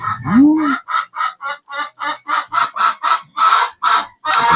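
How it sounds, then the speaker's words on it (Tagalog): Chickens clucking in a rapid, steady series of short, loud calls close by, with a brief higher squawk at the start. "Ang mga manok ko, nakita na nila ako nagbibideo."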